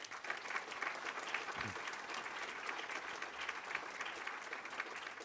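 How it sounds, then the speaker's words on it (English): An audience at a conference opening session applauds its sponsors. The clapping is steady and continuous, heard from a distance and fairly faint, with no voices over it. "Please give them all a round of applause."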